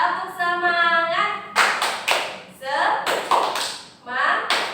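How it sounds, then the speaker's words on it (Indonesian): Children in an Indonesian primary-school class perform a 'tepuk semangat' clapping routine, with sharp rhythmic hand claps in quick bursts under loud chanting voices, close and lively. "Tepuk semangat"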